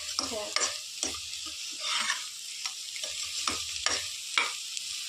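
Grated coconut fries over a low flame in a pan for lemon rice while a spatula scrapes and stirs it. The sizzle runs steady and is broken by repeated scraping strokes.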